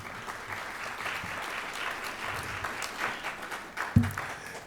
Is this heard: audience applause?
yes